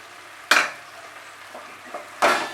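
Whisked sour yogurt hits hot, oil-glazed spice masala in a pan for a fish and pointed gourd dish, giving two sharp bursts of sizzle with light stirring scrapes in between.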